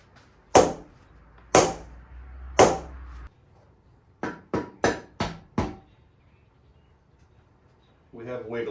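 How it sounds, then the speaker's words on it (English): A hammer strikes engine parts during an amateur teardown: three loud, spaced metallic blows, then a quicker run of five lighter hits, close and sharp, before a voice starts talking at the end. "So I'm going to now try a hammer."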